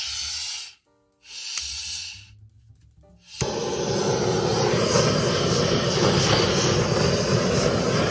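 A handheld torch flame roars steadily and loudly over an acrylic fluid-art paint pour, cutting out briefly and relighting before holding a continuous close hiss.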